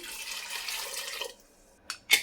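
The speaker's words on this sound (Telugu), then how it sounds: "ఇప్పుడు తగినంత వాటర్ వేసుకుందాము" Water pours into a pressure cooker holding dal and turmeric, a loud continuous rushing stream that stops abruptly. A couple of short splashes or drips follow after a pause.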